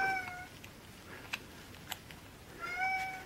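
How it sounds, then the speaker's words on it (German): A tomcat meowing up close, two drawn-out meows at the start and end with a couple of faint clicks between them in an otherwise quiet room. "Ach, der Kater will den Hof."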